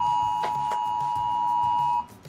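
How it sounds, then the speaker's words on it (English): A phone sounding a tornado warning alert gives a loud, steady electronic tone that holds for about two seconds and then cuts off, close up and alone, with no voices. "we're under a tornado warning here, so my phone's going crazy"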